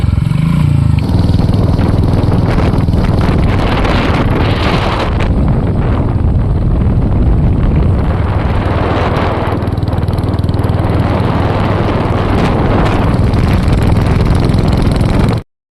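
A Royal Enfield Hunter 350 motorcycle rides along a road toward Sirsi. Its engine drones steadily and loudly under heavy wind buffeting on the microphone, with no talk, and the recording cuts off abruptly at the end.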